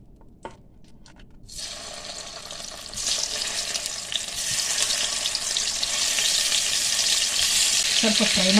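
Brinjal (eggplant) dropped into hot oil for a stuffed brinjal curry, a sharp sizzle erupting after a few light clinks and growing into a loud, steady frying hiss, with stirring scrapes near the end.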